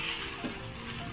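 Cooked wild forest vegetables being sautéed in a pan, a steady soft sizzle and hiss throughout with a brief stir scrape, close and continuous, no voices.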